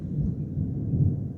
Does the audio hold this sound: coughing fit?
no